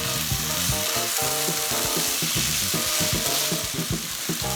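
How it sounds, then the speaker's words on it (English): Shrimp fried rice stir-fried in a hot pan with soy and oyster sauce being mixed in, a loud, close, continuous sizzle broken by rhythmic spatula scrapes and knocks against the pan. "add the soy sauce and the oyster sauce that we mixed earlier. And mix well to combine"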